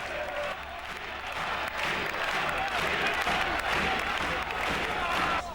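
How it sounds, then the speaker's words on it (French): Sustained applause and cheering from an opposing team's crowd at a sporting event, steady and dense throughout, with crowd voices mixed in. "Une sortie exceptionnelle tout de même sous les applaudissements de l'adversaire."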